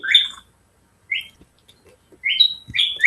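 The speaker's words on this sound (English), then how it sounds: "So in this northern cardinal, we can see that its vocalization is made up of mostly low whistles and somewhat high, sharper noises at the end of each whistle." Northern cardinal song played back from a recording: clean, loud whistled phrases with sharper notes, arriving in three separate bursts with quiet gaps between them and no talking.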